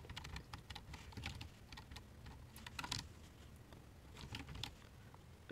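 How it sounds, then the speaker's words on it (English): Computer keyboard typing while numbers are entered into a bookkeeping spreadsheet, with quick, irregular clusters of close key taps running throughout and a slightly louder clack at the end. "you would literally just start typing in any other income that you have for"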